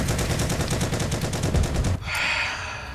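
A fast automatic weapon rattling in Heroes & Generals, a close, evenly spaced stream of rapid shots for about two seconds, then cutting off into a ringing, hissing tail.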